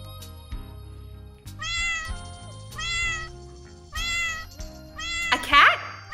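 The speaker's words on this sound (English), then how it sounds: "A cat?" A domestic cat meows four times in a row, each call clear and close with short gaps between, followed by a brief louder sharp sound at the end, set against a soft musical backing.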